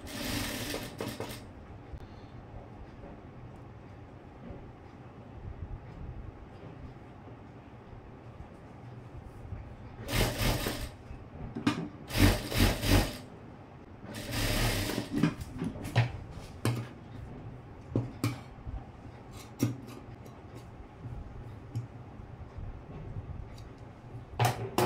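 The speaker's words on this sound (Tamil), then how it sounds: "இப்போ ஹைப்பட்டி இங்கேருந்து தைக்க ஆரம்பிச்சிடுறேன்." A sewing machine stitches a blouse in short, loud bursts of rapid whirring, mostly clustered in the middle stretch, separated by quieter pauses with faint handling noise.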